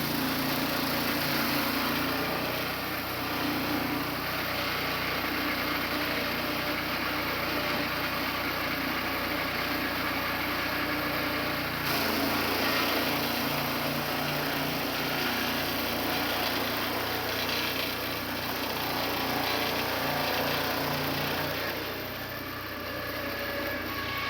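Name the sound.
swing blade sawmill cutting white pine log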